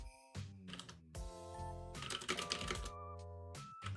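Quick clicking keystrokes on a computer keyboard during a live chat stream, scattered taps sitting over loud tonal background sound.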